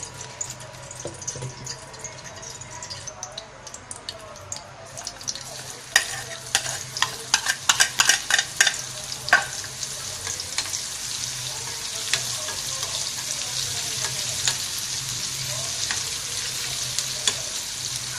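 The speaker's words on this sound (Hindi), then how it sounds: "हम सिर्फ सिंपल हम बघार दे रहे हैं इसके अंदर" Sizzling tempering poured into masoor dal with spinach: a steady frying hiss, then a burst of sharp crackles and spatters midway that settles back into an even, louder sizzle.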